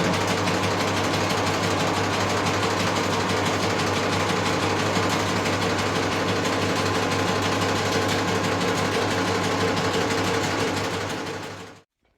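Metal lathe turning a jet ski flywheel in a home garage, a steady, loud mechanical whir with a constant hum and fine rattling texture, running unbroken for about twelve seconds before cutting off abruptly.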